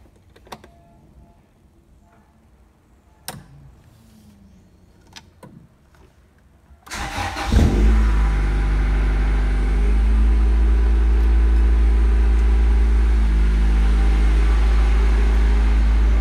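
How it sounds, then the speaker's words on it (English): A Honda car's engine cranks and fires about midway after some quiet clicks and thumps, then settles into a steady, loud, close idle hum as it reverses. "I'm just going to reverse the car so we have more space."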